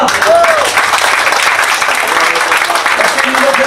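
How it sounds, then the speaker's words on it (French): A crowd at a 2017 agricultural fair gives sustained applause for the volunteers, dense and continuous clapping close by, with a voice talking over it. "Alors, un grand applaudissement à tous ces gens-là."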